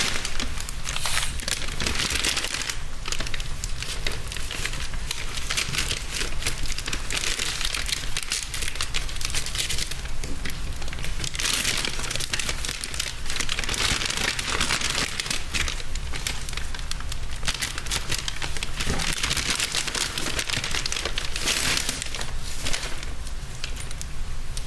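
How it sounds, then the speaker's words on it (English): Sustained crinkling and crackling of a sealed plastic evidence package being opened in a courtroom, loud and close, with continuous rustling over roughly twenty-five seconds. "If you could break the seal on that."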